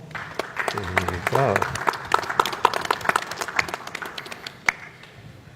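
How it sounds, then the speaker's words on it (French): A studio audience on a televised panel set claps for a young champion, with sharp, scattered claps spread over several seconds and a brief voice exclaiming among them. "Victor, qui mérite un grand applaudissement."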